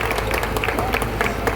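Audience applause at a gathering about municipal and metro police worker complaints: dense, continuous clapping from many hands, steady and fairly loud throughout with no clear speech.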